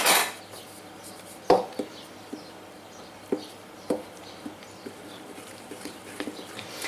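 A wooden spoon stirs thickening bread dough in a bowl, giving soft irregular knocks and scrapes against the sides, with a few sharper taps spaced out at close range and no talking.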